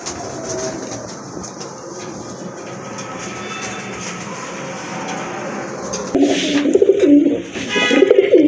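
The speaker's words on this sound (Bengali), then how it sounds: "মাশাআল্লাহ, আরেক জোড়া কবুতর।" Domestic pigeons kept in pairs for sale coo in low, soft murmurs under a steady background hum, becoming louder and closer in the last couple of seconds.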